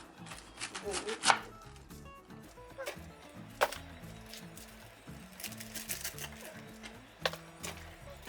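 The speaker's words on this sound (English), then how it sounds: "I will just chop this." Ingredients for a Filipino nilaga are chopped on a board, irregular knife knocks and thwacks of varying loudness scattered over several seconds, with people talking quietly in the background.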